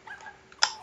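A dog character in the Super Mario Maker video game gives a brief whimpering yelp, a short faint electronic cry over quiet game sound.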